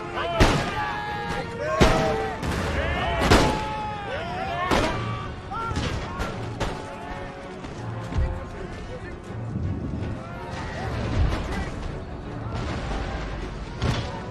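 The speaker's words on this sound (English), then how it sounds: "Started shooting canister into the back of my infantry" Artillery firing canister shot in the battle game Empire: Total War, a series of heavy booming blasts at irregular intervals over continuous battlefield din, with someone talking over the action.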